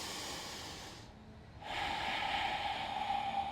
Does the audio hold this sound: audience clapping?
no